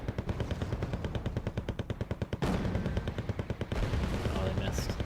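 Rapid machine-gun bursts and cannon fire from a Wargame: Red Dragon multiplayer battle crackle in a steady rhythm for several seconds, then a heavier blast and more firing, with a voice talking faintly underneath.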